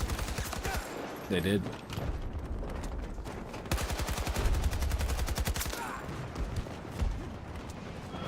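Rapid automatic gunfire bursts in the video game Battlefield 6, loud rattling volleys in the second half with scattered shots earlier, while a player speaks briefly over the action.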